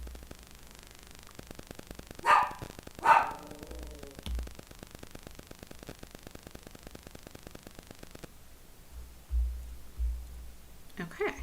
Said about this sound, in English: I'm so sorry about the barking